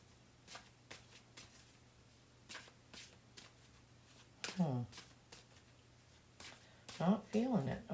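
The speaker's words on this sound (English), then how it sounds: "sometimes I have trouble shuffling the bigger decks" Soft riffles and flicks of cards being shuffled, coming in short bursts, with quiet talking mixed in near the end.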